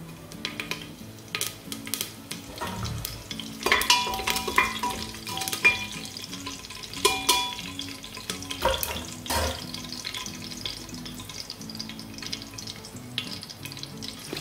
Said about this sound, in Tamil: ஆயில் ஹீட் ஆனதும் 4 பச்சை மிளகாயை நான் கட் பண்ணி வச்சிருக்கேன், அதை நான் இப்போ ஆட் பண்ணிக்கிறேன்